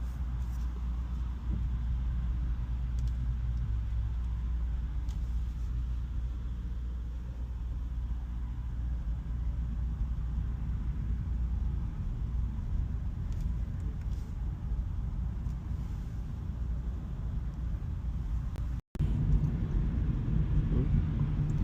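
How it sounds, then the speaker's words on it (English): Steady low rumble of a Hyundai Ioniq creeping through rush-hour congestion on a 13-degree morning, heard from inside the cabin as a continuous hum with a brief cutout near the end. "We're still in the traffic jam or congestion."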